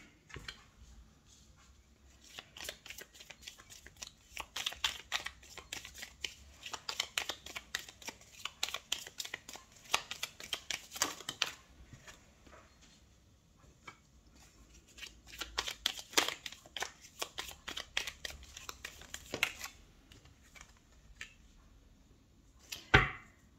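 Tarot cards being shuffled and drawn, quiet rapid riffling bursts of cards flicking against each other that come in uneven runs with short pauses between, close and soft, with no talking.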